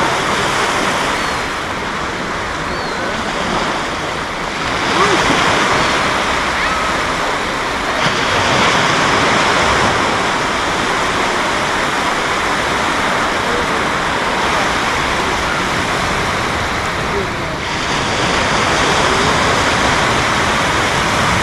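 Sea waves wash in continuously at low tide on Mallipo Beach, a broad, steady surf roar with gentle surges every few seconds, loud and close, with wind and no clear talking.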